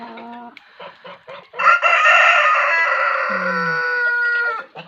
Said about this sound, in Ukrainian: Шоста ранку півень, як годинник.